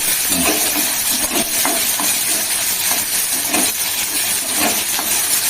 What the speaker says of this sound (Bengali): পেঁয়াজটা ভালো করে ভাজা হবে।